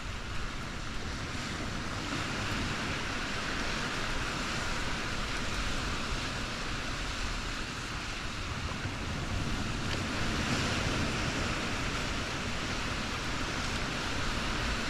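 Strong wind blows by the sea near a cave, a constant, loud, broadband roar lasting throughout with no voices.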